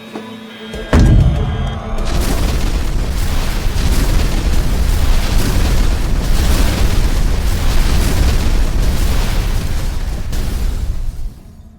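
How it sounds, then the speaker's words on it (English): A sudden loud boom erupts, then a sustained roaring rumble of blast and debris that stays heavy and dense for about ten seconds before cutting off. "That explosion was picked up on every seismic device by every intelligence agency on the planet."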